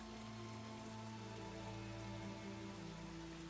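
Rain falls in a scene from the Hindi-dubbed action film Commando 3, a steady, dense patter that runs evenly throughout over a low, sustained musical drone.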